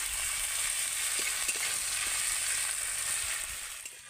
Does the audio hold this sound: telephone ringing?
no